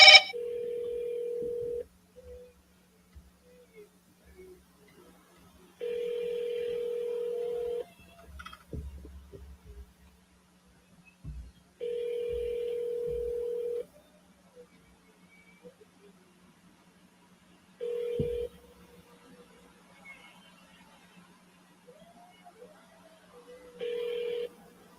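A phone call rings out through a handset, with steady repeating ringback tones in evenly spaced bursts separated by long quiet gaps, plus a short dialing click at the start and faint handling noises.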